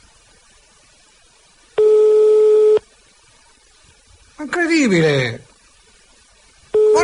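Telephone busy signal after dialing a number: steady beeping tone bursts about a second long, with a gap between them, loud and close, interrupted by someone speaking briefly in Italian.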